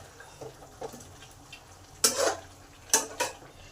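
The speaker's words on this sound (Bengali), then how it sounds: "আলুগুলোকে দিয়ে 5 মিনিট নেড়ে নেব।" Fried potatoes being stirred in a wok with chicken curry gravy: a low simmer underneath, light scrapes early on, then two louder, sharp scraping strokes of the spatula against the pan.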